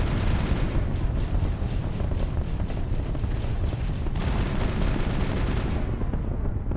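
Rockets and weapons fire in the sci-fi video game Mass Effect, a dense, continuous barrage of booming blasts and crackling bursts, loud and close throughout before easing off at the very end.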